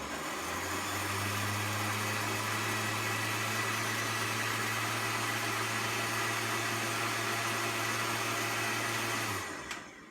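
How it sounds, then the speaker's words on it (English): Milk and ingredients whirring in a blender into a milkshake, a steady loud motor drone holding for about nine seconds before cutting off at the end. "You hit the blend button and mix them together to make a milkshake."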